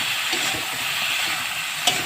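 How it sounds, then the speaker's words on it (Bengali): Potatoes, eggplant and beans frying in a pan with turmeric, salt and ginger paste, giving a steady close sizzle with faint stirring clinks and a brief sharper clatter near the end. "দেখো আলু আর বেগুন সেমটা আমি ভালো করে একটু কষিয়ে নিচ্ছি"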